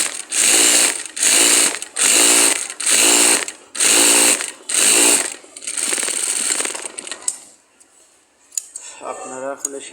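A sewing machine stitches a kameez side seam in six rhythmic bursts of rapid mechanical clatter, then a longer run before slowing and stopping, heard up close.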